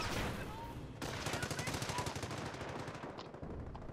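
Sustained machine gun fire in a strategy game, a steady rapid rhythmic burst of shots aimed at a house, loud and continuous for several seconds against a dense rumbling battle background.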